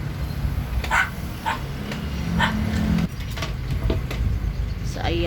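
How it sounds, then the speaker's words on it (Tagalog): Pet dogs at a home bark and whine in short bursts, fairly close, with a few higher whimpering cries over a busy outdoor background that includes passing traffic. "Marami kami alagang aso guys, saka pati pusa."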